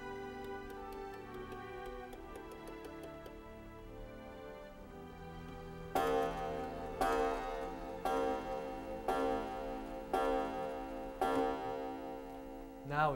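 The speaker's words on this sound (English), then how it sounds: "Now it's finished its 9 chimes." An old antique clock, wound with a key and somewhat rusty, ticks with a light metallic patter and then chimes several times, each chime a bright ringing strike spaced about a second apart and slowly decaying.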